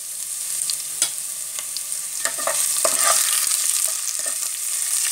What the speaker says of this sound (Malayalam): നമുക്കതിലേക്ക് നമ്മൾ ചോപ്പ് ചെയ്ത് വെച്ചിട്ടുള്ള വെളുത്തുള്ളി ഇഞ്ചി ഇട്ടിട്ട് നമുക്കൊന്ന് മൂപ്പിച്ചെടുക്കാം